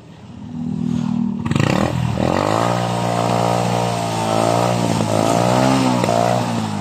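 A Rapido motorcycle fitted with a new stainless 3-in-1 exhaust pipe starts after a short quiet lead-in, then revs up into a loud, steady, throaty drone with slight rises and dips in pitch, close by.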